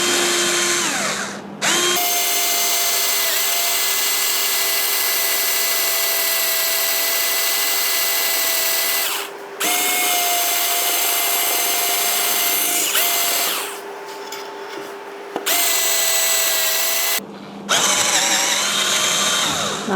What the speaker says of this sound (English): start drilling from the back